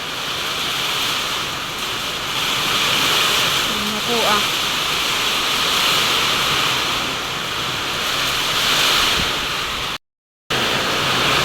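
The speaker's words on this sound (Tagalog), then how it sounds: "Napakalakas po ng hangin at saka ulan." Strong wind and heavy rain from Typhoon Ramil roar steadily as a dense, constant wash of noise, with a brief spoken voice partway through.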